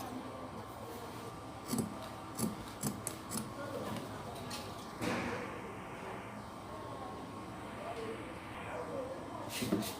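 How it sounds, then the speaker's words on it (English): Scissors cutting net fabric for a baby's full-flare skirt, with several crisp snips in a short cluster and a few more near the end, quiet and close over a low room hum. "So we cut it out."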